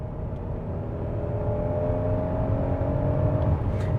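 A 2023 Hyundai Palisade Calligraphy SUV accelerates in sport mode, heard from inside as a steady engine drone and road rumble that swells gradually over four seconds, with no talk.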